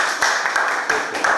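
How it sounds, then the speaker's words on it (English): Audience applause welcoming a professor at a lecture, short close hand claps in an irregular patter. "Let us welcome Professor Magister Dr. Markus Ladstätter with our applause."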